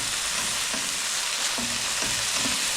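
Scrambled eggs with Swiss chard fry in a pan, a steady close sizzle with faint stirring scrapes spaced through it, no voices present.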